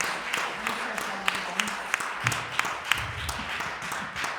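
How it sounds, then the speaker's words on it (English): An audience gives a round of applause for young panelists at a community assembly, scattered claps rising and falling in the room while a voice talks over them. "let's give these wonderful young folks another round of applause, please"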